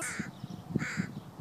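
Crows caw in two harsh, rasping calls, fairly close, over a low rhythmic rumble of background noise.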